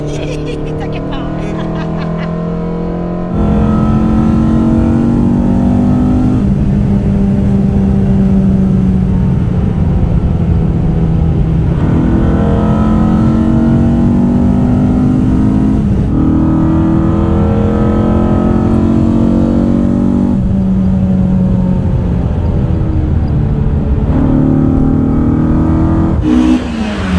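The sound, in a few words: Opel Astra GSi C20XE engine revving while driving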